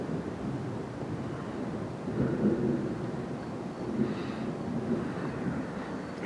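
Low, rumbling thunder rolls continuously with a few swelling peaks during a dry thunderstorm in south-west France, heard outdoors against steady wind, with no voices.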